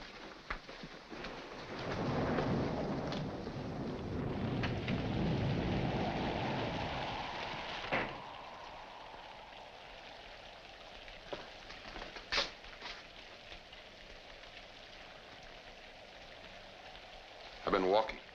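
A thunderstorm with rain in a 1946 film scene: a long, heavy roll of thunder swells and fades over steady rain, followed by quieter rainfall with scattered sharp clicks and knocks.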